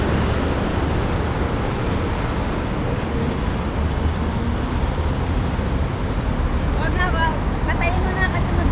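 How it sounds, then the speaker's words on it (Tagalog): Steady roar of heavy traffic on a busy road in Marina, with many vehicles passing continuously and loud throughout, a few brief higher tonal sounds near the end. "Daming sasakyan guys."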